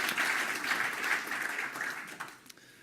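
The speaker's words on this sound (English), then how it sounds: "Can we give a round of applause to Refinitiv?" Conference audience applause, a steady moderately distant wash of many hands clapping that gradually thins and fades out near the end.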